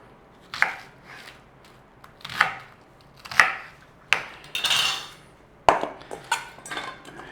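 Knife chopping a red onion into cubes on a board, a series of sharp, distinct chops spaced about a second apart, close and fairly loud, with no talking.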